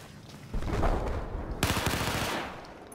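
AK rifle gunfire in Battlefield 4 comes as two loud, close bursts of rapid automatic fire, each lasting about a second.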